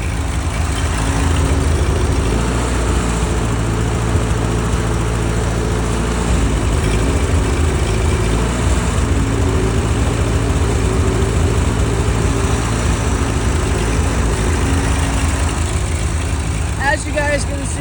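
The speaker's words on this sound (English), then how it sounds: "got the Ford all fired up here." A 1940s Ford 8N tractor engine runs continuously up close, a steady low rumbling idle that seems to have a fuel issue, with a voice talking over it.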